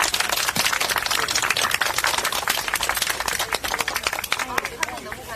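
Audience applause at a Korean political rally for a Mapo-gap candidate: dense, loud, sustained clapping from a large crowd, steady throughout and easing slightly near the end.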